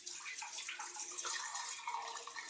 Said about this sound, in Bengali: এবার চিকেনগুলো আমি ভালো করে ধুয়ে নেবো।